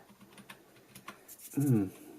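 Keys on a cheap Dogxiong Photoshop keyboard are tapped lightly a few times with soft, faint clicks, then one key is pressed down with a louder, fuller thump near the end.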